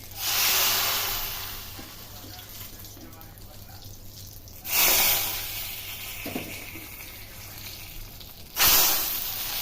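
Dried red chillies drop into hot oil for a dal tempering and sizzle in three sharp hissing bursts, each fading into a softer crackle, with a voice talking between them.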